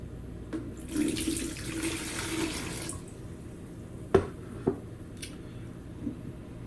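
Two cups of water splash into a pot for homemade Carolina barbecue sauce. The steady pour lasts about two seconds, followed by a few soft clinks and drips in a quiet kitchen.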